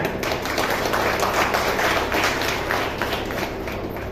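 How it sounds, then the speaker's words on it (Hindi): Conference hall audience clapping together after being invited to applaud themselves, a dense, steady burst of many hands lasting throughout, close and even with no talk over it. "तो एक बार आप सभी अपने लिए ताली जरूर बजाएं।"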